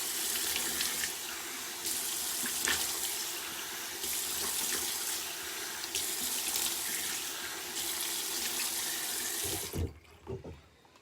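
Cold tap water runs steadily into a bathroom sink during a face rinse, a loud continuous splashing hiss that stops abruptly near the end, followed by a few faint drips and handling noises.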